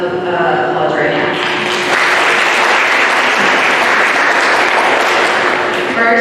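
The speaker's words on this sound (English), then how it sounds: "the dance teams especially really deserve a round of applause right now" A room full of students applauds the dance teams at a college student government meeting, loud sustained clapping that holds steady throughout, near and dense.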